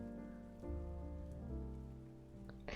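Rain falling on a surface in a steady patter, mixed with soft tonal music from a rainy jazz cafe playlist, fairly quiet and continuous.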